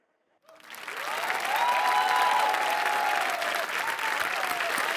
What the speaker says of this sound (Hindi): देखिए सब लोग ताली बजा रहे हैं आपके लिए, आप खड़े होकर के आपका स्वागत कर रहे हैं।